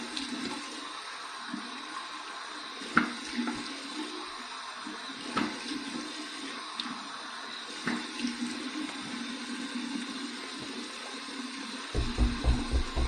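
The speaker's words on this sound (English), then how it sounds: "here's my 2 final rinses," Running water splashes during two final face rinses after a wet shave, one warm and one cold. A soft, steady stream is broken by faint splashes and a few louder bumps, with heavier splashing near the end.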